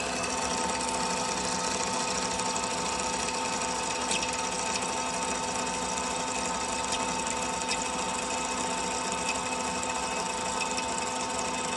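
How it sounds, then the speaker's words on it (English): A metal lathe turns a steel trailer pin, a steady high machine whine with a continuous cutting hiss and faint periodic ticks, loud and constant from start to finish with no speech. "we're making quick work on this shaft"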